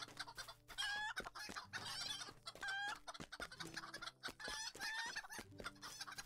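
Chickens in a video game cluck and squawk in repeated bursts, with a rooster-like crowing call recurring, close and clear over a quiet musical background.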